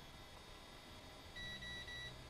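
High-pitched electronic beeps from an RC crawler's electronic speed controller sound in a short sequence over a quiet hiss, alongside a low motor hum.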